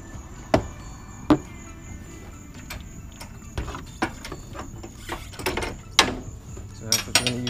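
A size 19 socket on a ratchet tightens the nut of a JKS Quicker Disconnect on a Jeep, producing sharp, irregular clicks and metallic knocks, close up, spaced over several seconds with short quicker bursts near the end.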